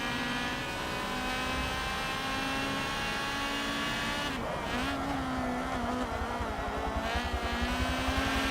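Race car engine from the Forza Motorsport 7 racing game, sport compact class, held at a steady high drone with a brief lift around the middle before pulling again, loud and continuous with no talk.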